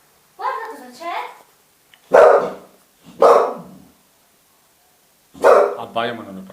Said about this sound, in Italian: Abbaia ma non lo prende.